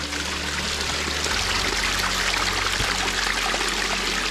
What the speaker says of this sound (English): we could hear the sound of running water